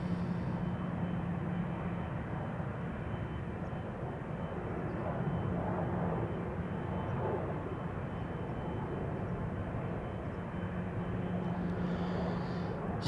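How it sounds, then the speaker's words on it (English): An Embraer E195-E2 jet takes off at Amsterdam Schiphol Airport, a steady, moderately distant engine roar that stays even throughout, with faint voices in the background. "E2 Embraer 195."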